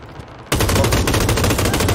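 Rapid automatic gunfire in a video game, aimed at a chicken, erupts suddenly after a quiet moment and continues as a loud, dense burst of shots to the end.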